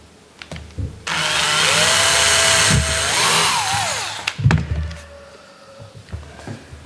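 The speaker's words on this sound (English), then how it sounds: "so I'll just drill that out as well." A power drill whirs at high speed for a few seconds drilling a model aircraft control rod, its pitch rising and wavering under load, followed by clicks and handling noises.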